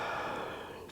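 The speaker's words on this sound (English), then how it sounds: "Deep breath in. Deep breath out." Slow, deep breathing during a yoga hip-opening session, a steady airy exhale carried close and soft for about a second, no talking.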